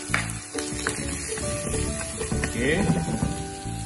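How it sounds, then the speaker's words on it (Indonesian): Garlic sizzles in hot oil in a pan as cooking for a fish dish begins, a steady frying hiss with a few stirring clicks, heard under people talking nearby. "Dia letak bawang putih."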